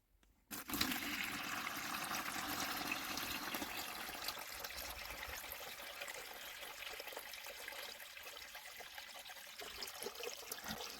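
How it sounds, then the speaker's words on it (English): Water pouring into a planted low-tech aquarium during a water change, starting abruptly after a moment of quiet, then a continuous splashing gush that eases slightly into a softer trickle, faint and close. "Time for another water change."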